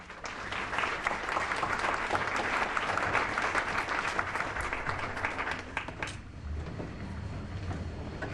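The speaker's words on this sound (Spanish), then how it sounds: "Fuerte aplauso." An audience at a Spanish-language formal lecture gives strong applause as a moderator is invited to the stage. Steady, crowded clapping continues for about six seconds, then thins into quieter scattered claps and room noise.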